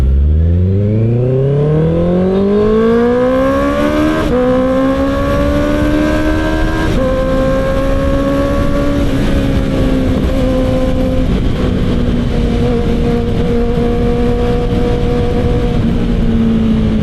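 A Honda CB650R motorcycle rides through city traffic, its engine revving up steadily through the gears with a rising, continuous tone that holds loud and close throughout, with no talking.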